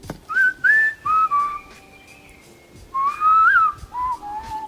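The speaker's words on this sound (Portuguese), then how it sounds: "esse cara da tribo Hadza, da Tanzânia, assobia comunicando-se com seus assistentes de penas" A Hadza man from Tanzania whistles to honeyguide birds in a series of clear, sliding whistled phrases, some short and rising, others held and wavering, with a pause midway before a louder burst, close and alone without talk.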